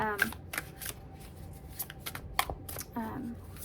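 A tarot card deck is shuffled close by in quick riffling bursts, with short pauses between them and a person talking over the shuffling.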